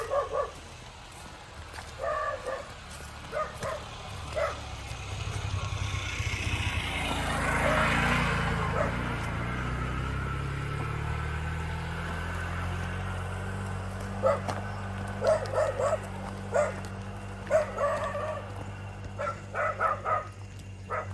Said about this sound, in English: Every house has at least one screaming dog.